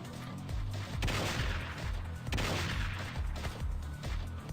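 Sustained automatic weapon fire in a modded video game, magazine dumps into a high-health target, loud and unbroken with booming low impacts across the whole stretch, no voices.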